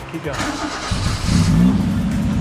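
A Suzuki Swift GTi being rebuilt cranks and catches, and its engine settles into a loud, high-revving idle close by while excited voices talk over it.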